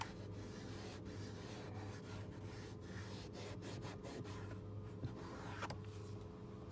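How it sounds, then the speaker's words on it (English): Wet wipe rubbed back and forth over a surface to clear dirt and dust before a car phone mount base pad is stuck on: soft, faint, continuous scrubbing strokes close by, with no talking over a low hum. "We use this to rub the surface to remove any dirt or dust."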